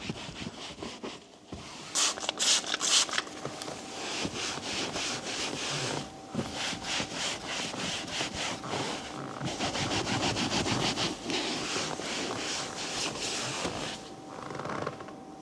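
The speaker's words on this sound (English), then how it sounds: "I just wanted to scrub off the remaining dust" A brush scrubbing leftover dust from a BMW car interior, close continuous rough rubbing and scratching strokes in quick rhythmic bursts that run almost without a pause.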